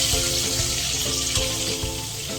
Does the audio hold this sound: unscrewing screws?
no